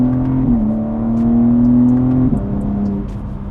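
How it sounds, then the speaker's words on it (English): A BMW G80 M3 floored in two-wheel drive, its engine holding a steady loud drone with a brief dip and shift-like break partway through, heard from inside the car with no talking. "Let's try to floor it in 2-wheel drive."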